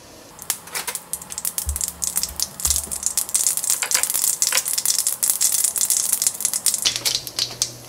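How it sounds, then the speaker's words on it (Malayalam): Mustard seeds spluttering in hot oil, a dense run of sharp crackling pops and sizzles that build to a steady close, loud burst, no talking. "അപ്പോൾ കടുക് പൊട്ടിയിട്ടുണ്ട്."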